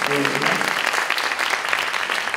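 Congregational applause at a Baptist pastors' spirituality seminar, a steady patter of many hands clapping, with a voice briefly heard at the start.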